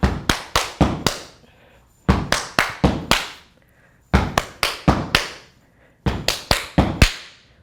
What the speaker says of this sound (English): I'm gonna call it stomp, clap, clap, stomp, because that's literally what you're doing